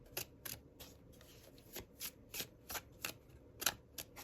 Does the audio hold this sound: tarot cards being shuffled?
yes